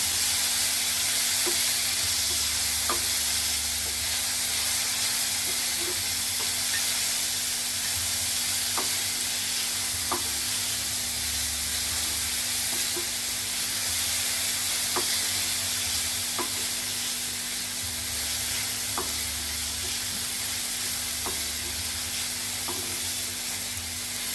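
Chopped onion sautéing in a pan for tondli (ivy gourd) bhaji gives a steady, close sizzle throughout, with scattered light spatula taps and scrapes against the pan and no voices.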